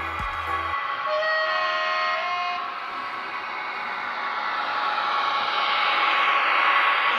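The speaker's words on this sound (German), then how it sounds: "Zug fährt durch. Bitte Kinderwagen und Gegenstände festhalten." An H0-scale model train rushes through a model station with a continuous whooshing rumble and thin whining tones, swelling slightly louder toward the end.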